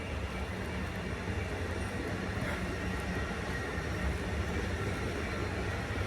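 A train rolls past close by, a steady, loud broadband rumble of wheels on rails that holds evenly for the whole stretch with no voices over it.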